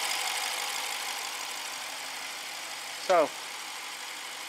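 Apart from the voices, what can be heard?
BMW 650 N63 engine running after timing fix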